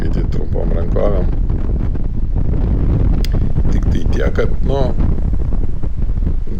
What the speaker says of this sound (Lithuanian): Paskutinės 2 savaitės vėjas nuolatos pučia iš tikrųjų